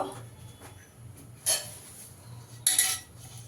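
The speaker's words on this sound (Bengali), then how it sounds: "এবার থালাটা বসিয়ে দেব, দিয়ে আমি 10 মিনিট একটু স্টিম করে নেব" Metal plate set into a wok for steaming, two sharp metallic clinks about a second apart over a low kitchen hum.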